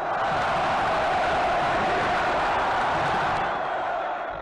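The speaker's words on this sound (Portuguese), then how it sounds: "Alan Bahia saiu ovacionado de campo ontem. A torcida soube reconhecer." Football crowd at a 2007 Copa do Brasil match between Atlético-PR and Vitória gives a sustained, loud roaring ovation as a player leaves the field, with a dense wash of cheering and shouting that holds steady throughout before easing slightly at the end.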